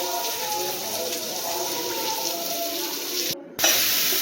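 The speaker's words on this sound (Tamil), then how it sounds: "எல்லா அவரைக்காயும் இந்த மாதிரி எடுத்து அழகாக தண்ணியில் அலசிட்டு" Flat beans rinsed by hand in water at a kitchen sink, with a steady hiss of running water and splashing that continue for several seconds before a brief cut, then resume.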